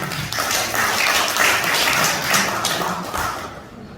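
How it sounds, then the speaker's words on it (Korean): At an appointment ceremony in a Gwangju hotel hall, a crowd welcomes performers with a few seconds of dense, fairly loud clapping that fades slightly at the end. "나올 때 큰 박수로 환영 부탁드리겠습니다."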